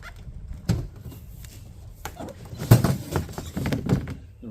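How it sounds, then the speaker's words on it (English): The outer cover being lifted off a TOSOT 15k BTU RV rooftop air conditioner: hollow plastic thunks, knocks and scrapes at close range, a couple of sharper bumps, with quiet handling noise in between. "now we're going to see if we can lift the cover off"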